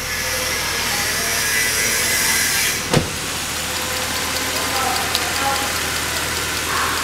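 A Mercedes C63 engine idles steadily at operating temperature, a constant close, even hum with one brief knock partway through and a faint click later.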